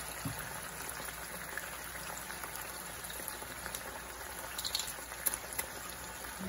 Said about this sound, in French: je vais le laisser mijoter et réduire